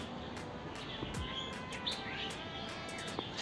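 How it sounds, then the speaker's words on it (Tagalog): Various birds sing from tall trees outdoors, with faint, distant chirps and tweets scattered over a hushed background of steady insect-like hiss. "Iba-ibang ibon po ang nandito."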